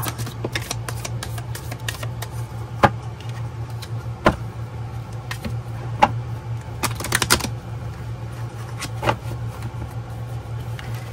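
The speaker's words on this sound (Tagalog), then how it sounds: "balasahin muna po natin maigi ang ating baraha" Playing cards being shuffled at close range, a run of crisp riffles and taps over a steady low hum.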